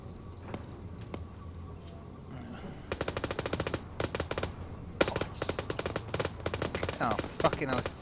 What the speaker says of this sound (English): The only shooting I'm hearing is up that way.